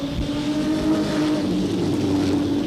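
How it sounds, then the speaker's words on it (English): A 1994 Eurocar V6 racing car engine roars steadily at high revs on the Hednesford Hills oval, a continuous loud buzzing drone with no one speaking. "these cars really do sound good. V6 engine"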